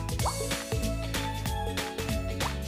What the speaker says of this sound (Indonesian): Muncul gelembung-gelembung.